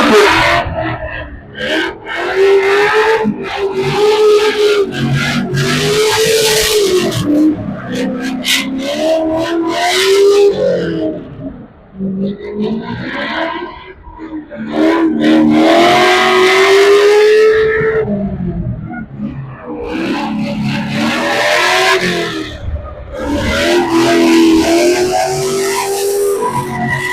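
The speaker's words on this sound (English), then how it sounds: "Heading back out on skid pad, Reese Crockett." A race car runs hard on a skid pad, its engine loud and close, rising and falling in long revving waves mixed with rasping tire and exhaust noise, with no talk.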